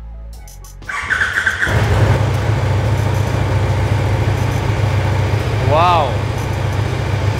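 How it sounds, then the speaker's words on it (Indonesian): A Brabus 1300 R on its stock exhaust cold-starts with a sharp crank and catch, then settles into a loud, high, steady idle close by, while a person exclaims over it. "Ini masih belum dinyalain sama sekali teman-teman, jadi cold start, jadi nanti jangan kaget kalau suaranya tinggi ya"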